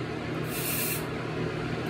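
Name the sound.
body spray sprayed toward a fan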